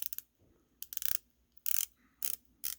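Rotating bezel on a Casio Duro MDV-106 dive watch being turned, giving quick bursts of sharp ratcheting clicks in four or five short runs separated by pauses, close and fairly quiet with no voice.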